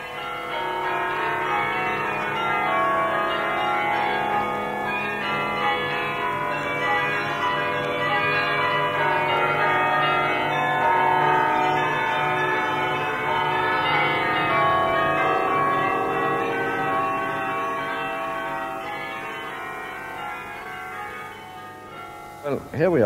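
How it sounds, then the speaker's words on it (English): Carillon of 49 bells ringing from the huge tower of Saint Rumbold's Cathedral in Mechelen, a dense, continuous wash of overlapping bell tones sustained at steady loudness for over twenty seconds, with no talk. "The enormous tower with its carillon of 49 bells,"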